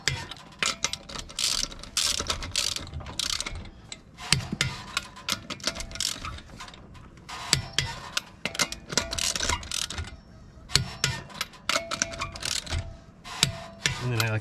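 A ratchet wrench tightening lug nuts on a Toyota Highlander wheel, rapid clicking ratchet strokes in repeated bursts with short pauses, close and steady.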